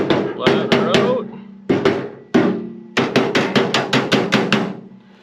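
A hammer strikes a 1955 Chevy Nomad steel tailgate, loud ringing metallic blows, close, in short bursts of several quick hits separated by brief pauses.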